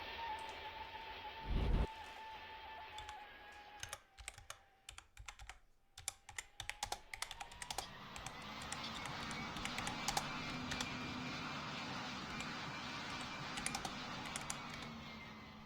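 Rapid clicks of typing on a computer keyboard, in bursts of keystrokes over a faint background hum that rises later.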